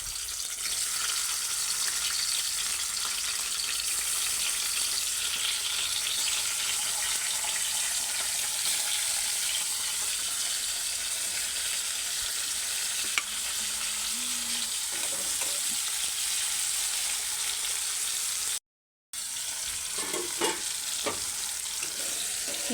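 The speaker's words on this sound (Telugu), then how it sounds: "ఇలా టమాటా పీసెస్ వేయించుకున్నాం కదా" Tomato pieces cut into rounds fry in oil in a pan, giving a steady, moderately loud sizzle with a bright hiss throughout, a brief dropout near the end and a few clinks after it.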